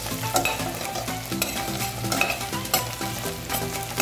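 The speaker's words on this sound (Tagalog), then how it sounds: "ginisa ko na yung bawang sibuyas" Garlic and onion fry in hot oil in a pan for beef menudo, a loud continuous sizzle with stirring clatter and scraping, and low background music running underneath.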